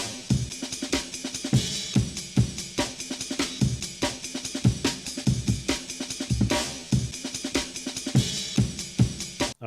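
A chopped breakbeat with a snare sample stretched and warped in texture mode at a small grain size, making dense, grainy repeating hits that pulse steadily, with no voices.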